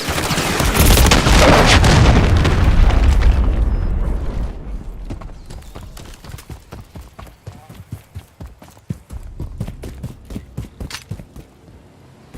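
A grenade explodes in Call of Duty MW3 with a loud, heavy blast that rumbles for several seconds, then gives way to scattered rapid clicks and thuds of nearby action.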